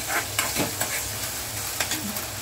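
Ginger garlic paste and onion frying for bamboo shoot bhaji, giving a loud, continuous sizzle with occasional soft scrapes of a stirring spoon and no talk.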